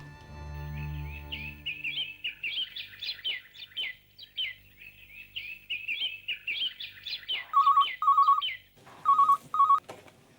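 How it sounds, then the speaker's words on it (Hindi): A telephone rings in short repeated electronic bursts near the end, following a stretch of chirpy bird-like trilling; no voices are present. "सुमित मुझे लग ही रहा था कि आज आपका फोन जरूर आएगा।"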